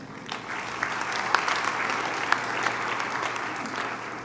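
Audience applause at a university welcome address for first-year students, a steady, moderately distant wash of many hands clapping with a few sharper claps standing out, lasting throughout.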